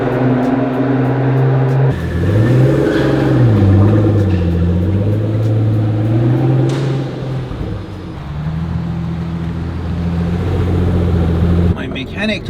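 A car engine idles, revs up and dips in pitch, then settles into a steady running hum, close by and loud.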